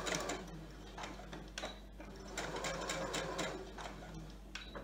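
A sewing machine stitches a fabric face mask and then reverses to lock the thread, a close, steady mechanical whirr with fast rhythmic ticking and small bursts of louder stitching.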